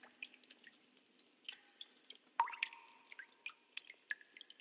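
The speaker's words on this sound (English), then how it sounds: "I hear water." Water drips in the Your Turn To Die video game: scattered, irregular plinks, some clear and ringing and others soft, falling faintly in an otherwise quiet room over a low steady hum.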